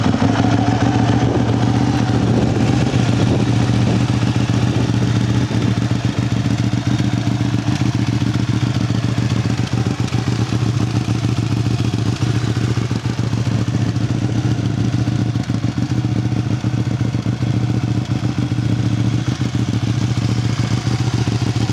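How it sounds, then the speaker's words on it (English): A Ducati Panigale 1199S motorcycle engine idles steadily and loudly up close, a constant low rumble with dry mechanical clatter and no speech throughout. "I'm gonna go ahead and start it up for you guys."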